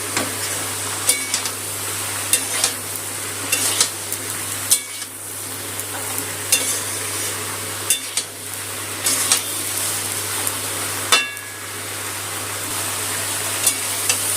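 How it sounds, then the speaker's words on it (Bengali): Snake gourd with shrimp stir-fried in hot oil over raised gas heat, giving a continuous sizzle broken by scraping stirs and clinks of the spatula, with no talking. "তেলের মধ্যে একটু ভাজা ভাজা করে নেবো,"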